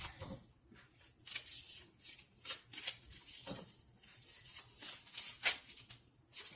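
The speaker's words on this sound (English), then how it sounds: "let's draw a couple more cards" Tarot cards shuffled and drawn from the deck, a close run of soft papery riffles and flicks in quick uneven bursts with short pauses between, no voices.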